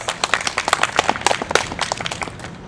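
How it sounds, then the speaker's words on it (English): Audience applause from a live comedy show crowd, a dense patter of many hands clapping steadily for a few seconds at moderate loudness with no talk over it. "Let's start us off with a round of applause."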